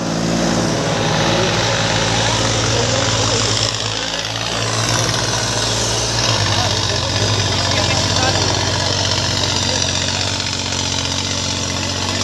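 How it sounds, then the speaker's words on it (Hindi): A Massey Ferguson 9500 tractor engine runs loud and close at a steady idle-like rumble, with a slight shift in pitch partway through. "विश्व का सबसे अधिक बिकने वाला ट्रैक्टर"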